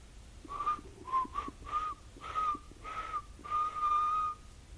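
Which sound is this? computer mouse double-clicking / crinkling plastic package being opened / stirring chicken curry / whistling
whistling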